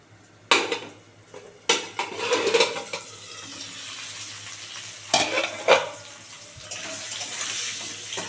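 Potatoes for aloo dum fry in a pan while a spoon stirs them, sharp metallic scrapes and clanks breaking over a steady sizzle, close by with no talk.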